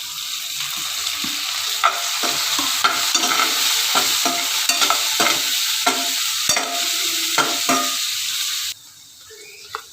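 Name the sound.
tomatoes stirred into fried onion and ginger-garlic paste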